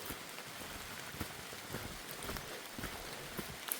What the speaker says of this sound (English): It hasn't quite stopped raining yet, but at least it's just been sprinkling for the past 20 minutes or so.